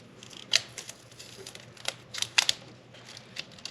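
Electrical tape peeled and torn off a wiring harness on a 2022 Ford F250 Lariat: sparse, crisp crackles and sharp snaps up close, with a quick cluster near the end and no talking.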